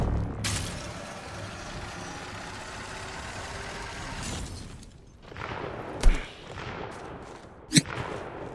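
A smart bolt fired in the video game Apex Legends: two sharp, loud bursts near the end, rising out of a steady, noisy rumbling background.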